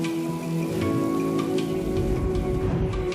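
Steady rain falling outdoors, with dense patter of drops on surfaces, continuous and fairly close, alongside some faint tonal background sounds.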